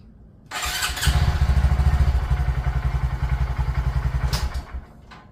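A 2020 Honda Grom motorcycle starts up with a whirring crank, then catches into a loud, rhythmic thumping idle up close, settling briefly before a clatter near the end.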